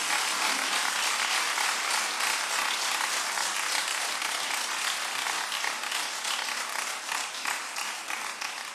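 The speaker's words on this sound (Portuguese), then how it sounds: "uma salva de palmas pelos meus parentes" Church congregation giving a round of applause during a Portuguese-language service, a continuous, fairly distant wash of clapping that holds steady throughout with no talk over it.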